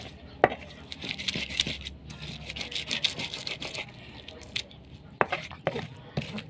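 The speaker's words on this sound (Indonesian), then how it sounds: "aku terus terang baru mencoba ngulek pakai batu" Chili paste ground by hand in a stone ulekan mortar and pestle in a home kitchen, with irregular scraping, knocking strikes and soft squishing throughout.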